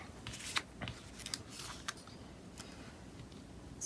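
Scissors snip through paper for a junk journal collage board made from Happy Planner pieces, a series of quiet, crisp, irregular cuts heard close up with no talking.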